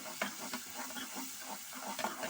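Onion and tomato masala frying in oil in a pan, a steady low sizzle with soft stirring scrapes and a few clicks of the spoon, heard close and fairly quiet with no talking.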